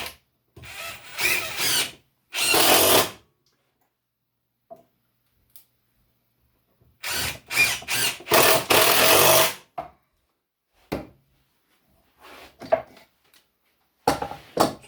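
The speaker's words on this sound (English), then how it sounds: "I'm just screwing this together." A power drill driving screws into wooden cleats, in several short loud whirring bursts separated by silences, with a few faint clicks and knocks between them.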